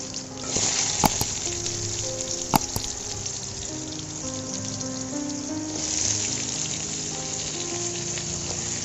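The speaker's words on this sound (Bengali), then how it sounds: "আমি এখন কেটে রাখা মিষ্টি কুমড়ার টুকরোগুলো দিয়ে দিচ্ছি" Pumpkin pieces hitting hot oil with black cumin seeds, a continuous close sizzle with a couple of sharp clinks from a utensil and a swell of frying near the end.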